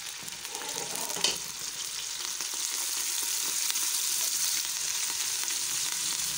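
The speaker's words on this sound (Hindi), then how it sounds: "अब जैसे ही ऑयल थोड़ा सा गर्म हो जाए इसमें प्याज डाल देंगी।" Onions drop into hot oil in a pan and settle into a steady, bright sizzle, with one brief stir or clatter near the start and no voices.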